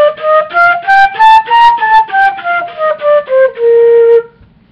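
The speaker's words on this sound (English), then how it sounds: "I'll just play you a scale to show you how it sounds" Flute playing a scale, a run of about a dozen clear tongued notes stepping upward and then back down, ending on a longer held tone, close and loud with no talking.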